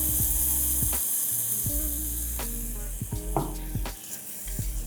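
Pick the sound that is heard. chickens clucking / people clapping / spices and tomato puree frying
spices and tomato puree frying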